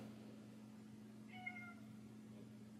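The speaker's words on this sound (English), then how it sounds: "And my cat is meowing." A pet cat gives one short meow partway through, faint against a steady low household hum, with no talk.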